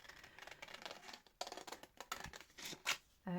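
Scissors snipping through material in quick, uneven bursts of sharp crisp cuts, close up, with no talking.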